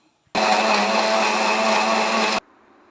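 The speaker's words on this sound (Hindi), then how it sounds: "ये मैंने दही और चीज़ें डाल दी हैं, मैं इसे ग्राइंड करने लगी हूँ।" A mixer grinder whirs on yogurt, cashews, almonds, garlic and onion, a loud, steady blending roar lasting about two seconds that starts and stops abruptly.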